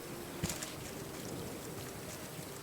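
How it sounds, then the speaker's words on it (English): Steady rain falls in the ocean survival game Raft, a constant soft hiss of drops with a faint low wash of water underneath and no voices. "I wonder if it's because it's raining?"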